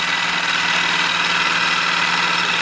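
A 2013 Lehr LP5.0S 5HP propane outboard motor with a new powerhead runs steadily at a constant, close and loud engine drone with no clear change in pitch.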